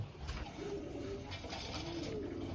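Soft pigeon coos rising and falling a few times against a constant background hum, with no voices, as pigeons are fed.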